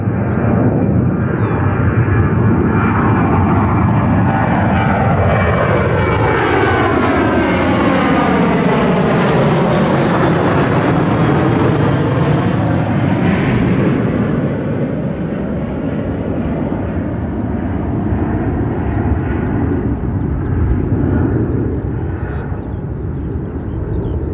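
A Ryanair jet airliner roars past close by at London Gatwick Airport, its loud engine noise swelling and sweeping down in pitch as it passes, then slowly fading away.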